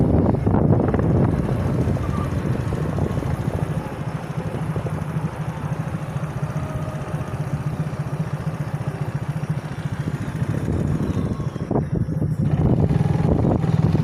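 A motorbike rides along a road through green paddy fields, its engine droning steadily beneath heavy wind buffeting on the microphone for the whole stretch.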